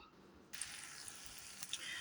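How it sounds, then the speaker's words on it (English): A soft sizzle starts abruptly as naan dough meets a hot iron skillet, then a steady frying hiss with small pops continues. "We're frying it in our iron skillet."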